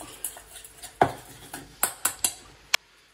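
A metal spoon stirs spices in a dish, producing a handful of irregular clinks and scrapes against the dish that are close and fairly quiet, with no talk.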